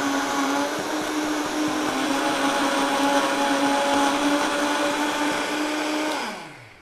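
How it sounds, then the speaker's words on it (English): A Vitamix blender whirs steadily as it purées tomatoes for gazpacho. The motor stays loud and even for about six seconds, then winds down quickly at the end. "then we're going to Vitamix it"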